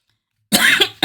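A single sharp, close cough after silence, followed by a brief second cough burst.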